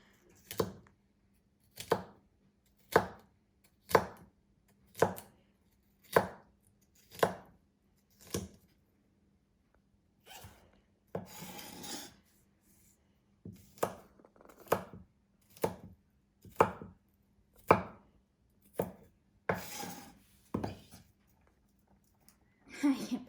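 A knife chops celery into tiny eighth-inch brunoise on a board. The sharp, close thuds come in a steady rhythm, pause briefly, then resume with a quicker, denser run. A low hum sits underneath.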